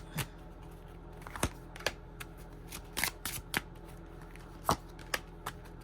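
Crisp, irregular tarot card riffles and snaps, a handful of sharp bursts scattered over several seconds, close and fairly quiet against a soft background hum.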